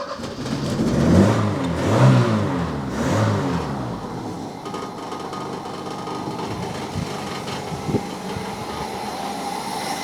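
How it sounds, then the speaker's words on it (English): Opel Ascona engine with an automatic choke runs and revs up, rising and falling roars early on before settling into a steadier, quieter idle-like hum with a few faint knocks. "So what I want to do is to actually just start up the engine and see if the last flap opens up with full throttle."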